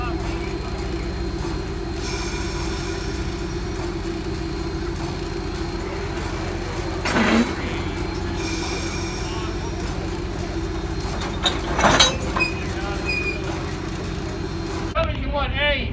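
A locomotive moves along the track with a steady low rumble and intermittent hissing bursts, while voices can be heard faintly underneath.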